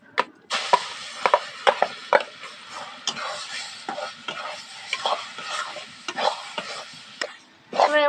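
Lentil paste sizzling as it fries in a pan and is stirred with a spoon, giving repeated sharp scraping strokes over a steady crackle, close and fairly loud, with no talk.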